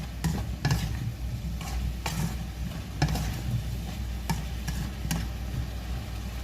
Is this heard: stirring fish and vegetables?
yes